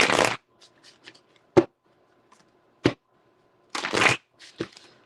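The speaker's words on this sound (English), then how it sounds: "Let me get a quick shuffle with these." Cards being shuffled in several quick bursts, close and crisp, with brief riffling and snapping separated by short quiet gaps.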